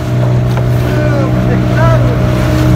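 A speedboat engine drones steadily and loudly throughout at a fishing port, with wind rushing past and a few faint voices over the motor.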